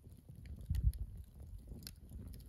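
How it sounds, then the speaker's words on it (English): Campfire at a campsite at night in Sheep Creek Canyon, southwestern Idaho, with no wind: soft, sparse crackles and pops, quiet and close, over a low steady hush. "The sound of the fire,"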